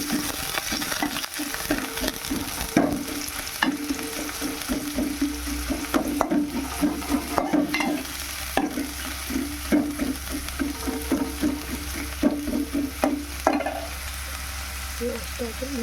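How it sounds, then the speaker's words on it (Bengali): Chopped onions fry and sizzle steadily in a pan, with repeated scrapes and clinks of a spoon stirring them throughout, up close and without any talk. "পেঁয়াজটাকে লাল করে ভেজে নেব"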